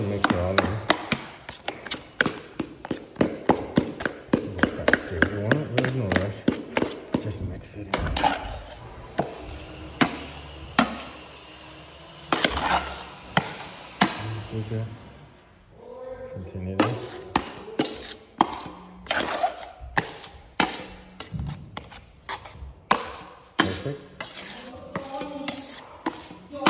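Drywall joint compound is mixed for taping, with repeated wet slapping and scraping strokes in an irregular rhythm and a brief pause midway. Close and fairly loud.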